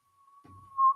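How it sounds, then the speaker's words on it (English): A two-toned whistle carrying through the woods at night, a thin steady tone that rises in loudness toward the end, faint and distant. "a whistle responds, two-toned whistle"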